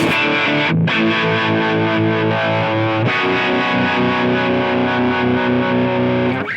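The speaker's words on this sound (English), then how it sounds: "The harmonic tremolo by itself." A sustained distorted electric guitar chord pulses with a wavering harmonic tremolo effect from a Helix processor throughout, briefly dropping out before a fresh strum restarts it.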